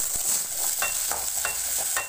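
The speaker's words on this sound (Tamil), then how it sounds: "பாருங்கள், எண்ணெய் காஞ்சிச்சு, வெங்காயம் பூண்டு சேர்த்துக்கலாம்." Onion and garlic sizzle steadily in hot oil in a pan for an eggplant tamarind kuzhambu, with faint stirring scrapes and no talking.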